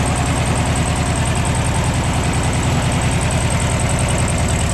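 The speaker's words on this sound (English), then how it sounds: "Engine sounds good, don't see any abnormal smoke." A 1969 Karmann Ghia with a 1500cc single-port engine idles with a steady, even, rapid low-pitched pulsing and a faint high whine, close and constant throughout.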